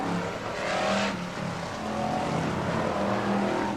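BriSCA Formula 1 stock cars racing at Skegness in 1994: a steady, dense engine roar from several cars, loud and continuous from a distance, with no voice over it.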